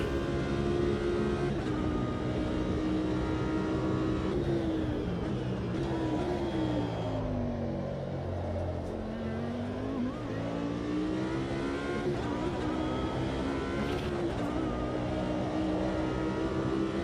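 An Audi GT4 race car in Automobilista 2 holds a steady, droning engine note that rises and dips through gear changes and throttle shifts, loud and continuous for the whole stretch, without talk.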